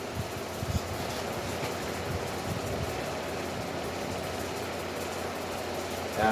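A brand-new 50cc engine in a Coolster runs at a steady idle, a continuous close mechanical hum and rattle with no change in pitch.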